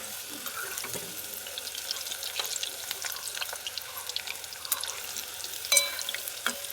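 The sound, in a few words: deep frying potato roses in oil on low flame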